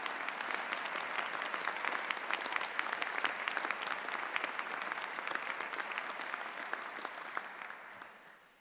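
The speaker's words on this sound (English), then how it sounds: "Would you please show them your appreciation with a round of applause?" An audience at a university investiture ceremony claps in a sustained, crisp round of applause, fairly distant and steady before tapering off at the end, with no talking.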